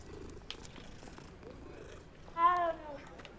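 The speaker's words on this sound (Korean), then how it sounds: "한번 만져줘야지. 야옹아!" A cat in the video game Hogwarts Legacy purrs softly and steadily while being petted, then lets out a short, clear meow near the end.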